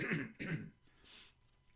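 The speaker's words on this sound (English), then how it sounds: "As you can tell, I'm clearing my throat a lot." Two quick, rough throat clearings up close, followed by a soft breathy exhale.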